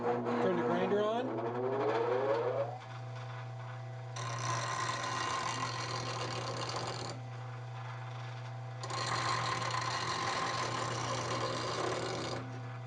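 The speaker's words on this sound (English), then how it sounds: "turn the grinder on" Bench grinder sharpening a spindle gouge woodturning tool: a steady motor hum spins up, with two gritty grinding passes of a few seconds each riding over it, close and continuous.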